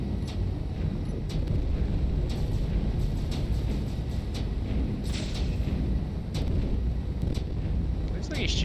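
Rapid pulse laser fire from a space combat video game batters a ship, a dense rumbling barrage with repeated sharp bursts over continuous low roar, with voices talking underneath.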